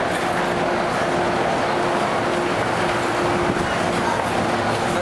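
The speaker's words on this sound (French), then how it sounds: "Le métro Hong Kong et..." A Hong Kong metro train rumbles loudly and steadily, with a dense rolling roar and a faint tonal hum, heard from aboard or close by throughout.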